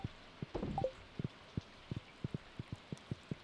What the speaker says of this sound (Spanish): Anda, está lloviendo.